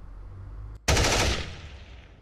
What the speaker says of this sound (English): Let's find a good gunshot that'll work with my muzzle flash.